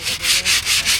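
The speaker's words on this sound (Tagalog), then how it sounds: "Liha muna, liha." Sandpaper rubbing in four steady back-and-forth strokes, a loud close hiss with no voices, prepping a surface before painting.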